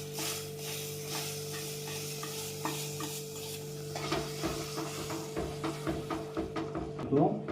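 Roasted semolina being stirred into pineapple-flavoured water for pineapple kesari, a wet scraping and stirring in a pan with faint sizzling, growing busier and louder toward the end.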